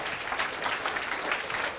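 An audience at a debate breaks into steady applause, a dense wash of clapping heard from a moderate distance, without voices.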